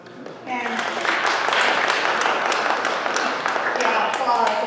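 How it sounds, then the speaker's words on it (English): Audience applause at a B'nai Mitzvah celebration swells into a steady wash of clapping from a roomful of people, with voices murmuring through it. "yeah, applause."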